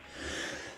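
One short, breathy sneeze bursts out close to the microphone during a podcast conversation.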